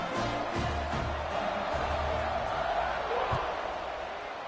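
A college football stadium crowd roars in a steady, distant wash of cheering just before the kickoff, with scattered whoops and thuds over the din.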